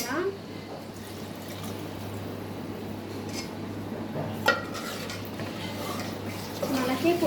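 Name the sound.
water being poured into okra tamarind stew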